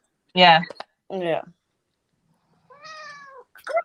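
A house cat meows clearly a few times in short bursts, close by, between bits of a person talking.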